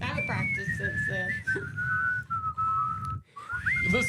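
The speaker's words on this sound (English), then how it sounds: "Listen to us whistling." Two people on a morning radio show whistling together: long sustained pitched tones that slide and waver near the mic, with brief breaks and a sharp rising note at the end.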